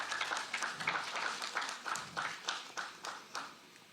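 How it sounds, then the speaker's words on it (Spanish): Applause at an international political communication congress, a sparse, modest clapping from a smallish audience in rhythmic bursts that gradually fade. "Fuertes palmas, por favor."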